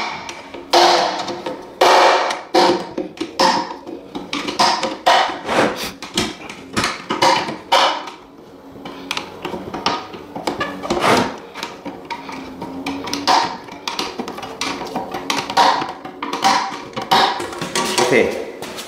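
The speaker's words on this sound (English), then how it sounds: "Take the chisel or pull bar and open this." A Mapei wood-floor adhesive bucket is pried open with a chisel or pull bar, giving a close series of sharp knocks, clanks and scraping bursts in an irregular rhythm.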